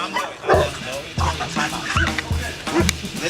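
Dog barking at a grooming shop, several short yips and barks in an uneven series at close range, with soft whimpers and voices in the background.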